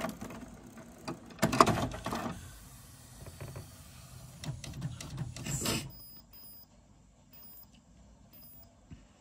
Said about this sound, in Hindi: ये देखिए आपका प्रिंट हेड चार्ज हो गया, अभी ये अपने हेड को क्लीन कर रहा है नीचे।